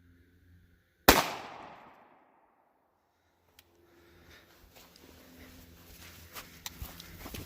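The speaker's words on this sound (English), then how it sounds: "We're going to hit this with a 230 grain round nose full metal jacket 45 here." A single sharp, loud gunshot from a .45 pistol firing a 230 grain round-nose full metal jacket round into ballistic gel outdoors, with a ringing decay and quiet movement and handling noises after it.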